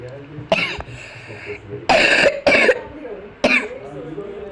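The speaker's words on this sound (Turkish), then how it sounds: "Öksürük tuttu." Four sharp, harsh coughs burst out in a ragged sequence, close and loud, with brief pauses between them.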